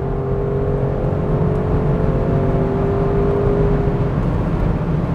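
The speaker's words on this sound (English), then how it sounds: "V8 makes about 600 horsepower and 590 pound-feet of torque. It just makes power everywhere." A 2021 Audi RS6 Avant wagon's 600-horsepower V8 pulls hard under acceleration, a loud, steady engine drone with a rising whine heard from inside the car.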